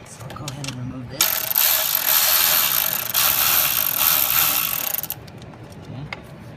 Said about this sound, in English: there's a bolt at the back that's holding this on with a 10mm socket. So I'll go ahead and remove this.